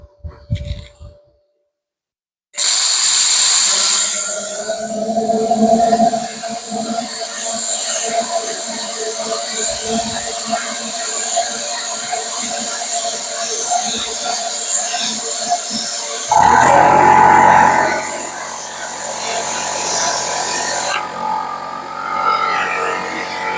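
A 45-amp plasma cutter slices through quarter-inch steel with a steady, loud hiss and buzz that holds for about twenty seconds, shifting in pitch near the end.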